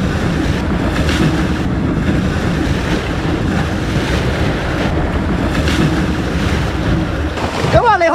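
Waves roll and break continuously on a rocky seashore at Lobster Bay, a dense, steady wash of surf mixed with wind buffeting the microphone, loud and close throughout.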